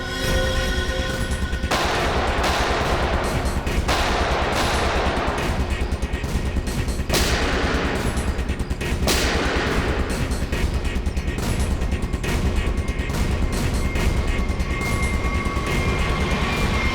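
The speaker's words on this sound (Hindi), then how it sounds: "वहां से चल रही है गोलियां।" Sustained gunfire from a TV crime drama shootout, a dense, loud barrage of rapid shots and bursts filling the scene continuously, with sharp cracks standing out over a thick, rumbling wash of repeated fire and no voices heard.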